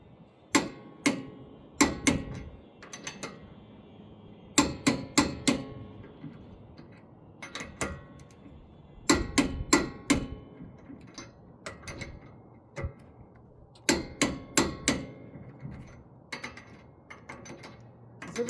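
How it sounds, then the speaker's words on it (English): A torque wrench clicks sharply on the 50mm wheel spacer nuts of a Cybertruck, close, crisp clicks in quick pairs and triplets with short pauses between bursts, no talk. "and then check them with your torque wrench."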